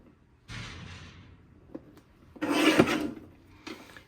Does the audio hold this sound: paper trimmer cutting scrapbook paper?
yes